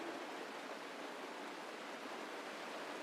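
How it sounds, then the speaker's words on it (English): Steady rainfall from Genshin Impact, a dense, even hiss of falling drops that holds at a constant low level throughout with no voices. "This is the sound of rain."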